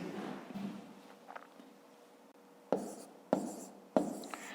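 Numbers handwritten during long division for a fifth-grade math exercise: faint scratching, then three crisp, close writing strokes spaced evenly apart in a quiet room.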